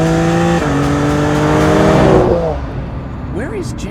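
The engine of a 2023 BMW M2 revs and drones loudly, its pitch shifting and rising before fading away as the car pulls off into the distance.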